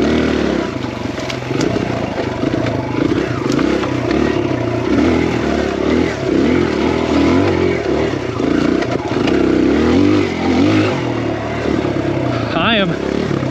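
Kawasaki KLX140RF dirt bike riding a trail, a continuous buzzing single-cylinder engine note with slight revving and clatter, with a rider talking over it.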